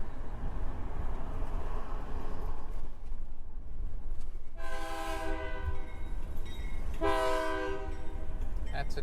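A train rolls past in Aberdeen, Washington, with a steady low rumble and two long, loud horn blasts sounding from fairly close by.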